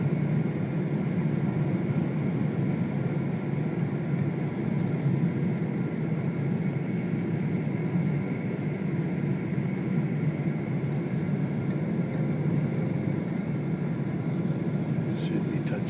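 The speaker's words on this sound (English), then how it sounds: "As you can see, we started our descent and we're now approaching the airport." Steady, loud low rumble of a jet airliner cabin during descent toward Tokyo Narita airport, a continuous engine and airflow drone filling the whole stretch without a break.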